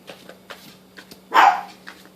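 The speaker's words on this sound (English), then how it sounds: "If you hear that dog in the background, that is my little toy poodle, Daisy May" A small toy poodle gives one sharp, loud bark from nearby, set among faint clicks and light background sounds.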